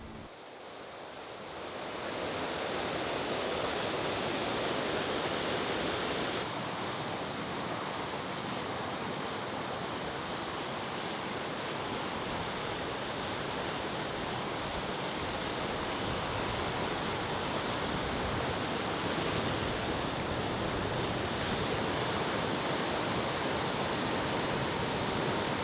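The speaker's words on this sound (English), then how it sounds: "we discovered the powerful and untamed Lake Follafossen waterfall" Powerful, untamed Follafossen waterfall in Norway roars steadily and loud, its dense broadband rush of water cascading over rocks filling the whole scene without a pause, with some wind buffeting the microphone.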